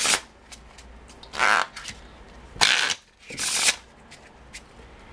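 A deck of playing cards is shuffled for a game of Texas Hold'em, giving four or five quick, crisp riffling bursts close by, separated by short gaps.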